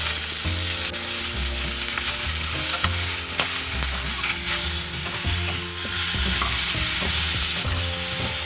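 Spices with turmeric, salt and black salt for raw mango chutney fry loudly in a pan, a dense, close sizzle broken by the rhythmic scrape and knock of stirring throughout.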